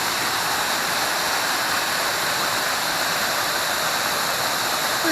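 A waterfall near a campsite outside Leyburn in the Yorkshire Dales roars steadily and close, a dense unbroken rush of falling water at constant loudness with no voices.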